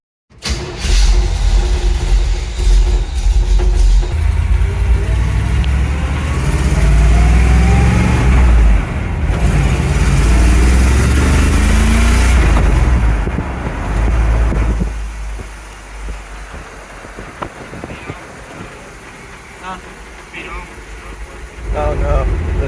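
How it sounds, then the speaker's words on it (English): A 1975 Chevrolet C10 pickup truck drives around the block. Its engine rumbles and revs up close, then eases off toward a quieter idle-like hum, with voices speaking over it. "I'm gonna drive it around the block and test the speedometer and all the gauges"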